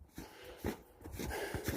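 A wolf dog on a lead pants and whimpers close by, with heavy breaths and short snorts in an uneven rhythm.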